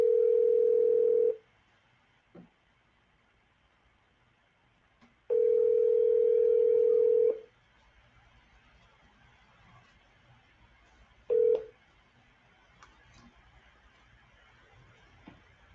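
A telephone ringback tone sounds as a call is placed, long steady beeps at intervals of several seconds with a shorter final beep, over quiet line hiss.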